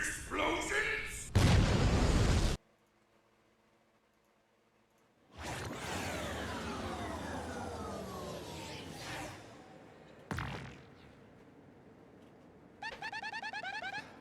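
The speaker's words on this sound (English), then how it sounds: "Explosions!" Booming explosions and whooshing sweeps in Paper Mario: The Thousand-Year Door, loud bursts broken by abrupt cuts and a quiet stretch, with a voice briefly heard near the start.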